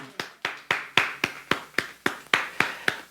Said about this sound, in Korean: 우리를 구원해 주신 하나님께 영광의 박수 드리겠습니다.